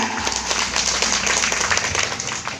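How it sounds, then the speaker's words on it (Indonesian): Applause from an audience at a leader meeting, a dense, steady wash of clapping lasting throughout, with faint voices mixed in. "Tepuk tangan untuk kita"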